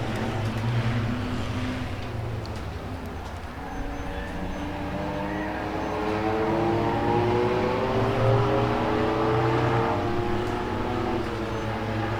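Race cars in a heat race circling a track, a continuous loud engine drone with rising and falling harmonic whine as cars pass, heard from trackside without talk.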